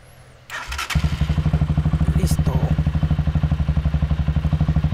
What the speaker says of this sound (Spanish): ya tengo armada la moto. Ahorita la voy a encender para que ustedes escuchen.